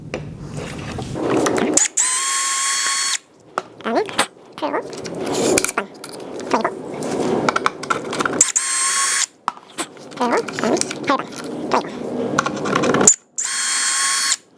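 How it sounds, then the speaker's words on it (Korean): Someone drills a dowel hole with a Wolfcraft 4650 dowelling jig clamped to the workpiece: a loud electric drill whines in several short bursts, separated by clicks, handling noises and someone talking. "자, 첫 번째 타공을 했습니다."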